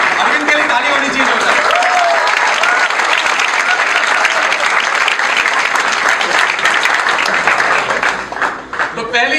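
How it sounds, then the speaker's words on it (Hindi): A live seminar audience breaks into sustained, loud applause, dense steady clapping that fills the room and tapers slightly near the end. "अरविंद के लिए ताली होनी चाहिए।"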